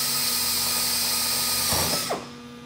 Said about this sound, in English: I also need to make sure that I hold the drill straight up and down